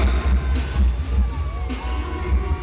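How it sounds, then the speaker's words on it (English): A crowd of basketball fans at a 2019 SEA Games bronze-medal game between Vietnam and Indonesia yells and screams for Indonesia, a loud, dense burst of cheering from a big arena audience. "Those cheering for Indonesia, I want to hear you scream."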